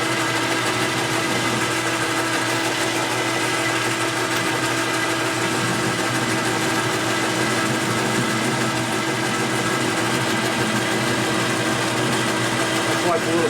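Metal lathe turning down a hardened car shock stud, a steady, loud continuous whir and grinding drone with no breaks, while people talk quietly underneath.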